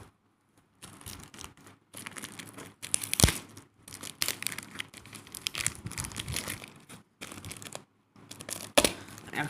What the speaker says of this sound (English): Oh I tear the bill.